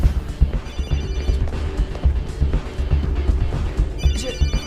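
A mobile phone rings in an action film, a bright repeating ringtone that is partly buried under dense, loud background noise and scene clatter.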